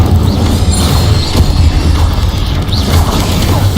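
An Incendio fire spell cast in Hogwarts Legacy lands as a loud, dense rumbling burst that keeps roaring with crackling, booming texture throughout, with no voices over it.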